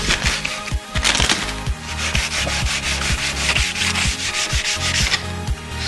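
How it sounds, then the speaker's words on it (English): Sanding a wooden newel post by hand: steady rubbing strokes in a quick back-and-forth rhythm, close and fairly loud, with no voices. "I'm going to sand down the rest of this"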